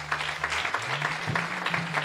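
Steady applause from a congregation at a church service, dense and continuous clapping with a low sustained tone underneath.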